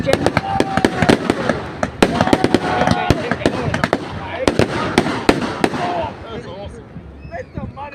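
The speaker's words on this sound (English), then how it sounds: "Fireworks, so many of them. That's the first explosion." Repeated sharp fireworks bursts crackle and bang in quick succession at a display in Pounawea, loud and close, with people talking and exclaiming throughout before the blasts thin out near the end.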